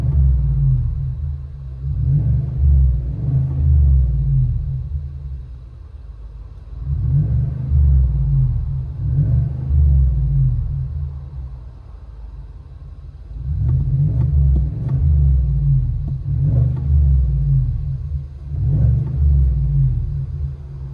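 Deep, rumbling exhaust of a 2024 GMC Yukon AT4 with a 5.3L V8 and Borla ProXS system, heard from inside the cabin, swelling in several loud revving or accelerating surges separated by quieter idle dips, with no speech.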